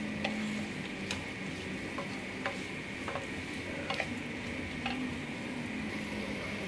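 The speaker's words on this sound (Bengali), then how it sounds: "এটাকে একটু ভালো করে আবার একটু নেড়ে নিচ্ছি" Fried rice with pointed gourd being turned over in a pan, a steady low sizzle underneath with sparse light clicks and scrapes of the spatula scattered throughout.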